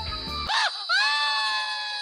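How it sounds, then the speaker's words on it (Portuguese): A scream effect from the Lamp glove in the Roblox game Slap Battles, a loud, close, warbling wail with rising and falling pitch that cuts in after a buzzy game sound and sustains to the end. "É, dá esse grito, cara. É estranho."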